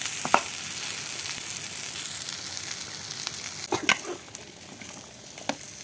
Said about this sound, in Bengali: পেঁয়াজ রসুন ভাজতেছি